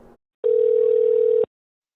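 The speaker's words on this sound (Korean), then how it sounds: "저희가 직접 120 서울 다산 콜센터에 전화해서 문의해봤습니다." A single steady telephone tone sounds for about a second on a call to the 120 Dasan call center in Seoul, loud and clean after a brief faint blip, then silence.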